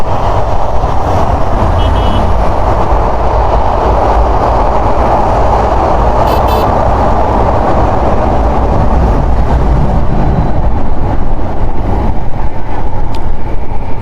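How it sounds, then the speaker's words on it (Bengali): A train heading toward Dhaka from across the Padma rumbles past close by, a loud continuous roar of wheels and carriages lasting throughout, with a faint brief horn-like tone. "ওয়াও, ট্রেন যাইতেছে।"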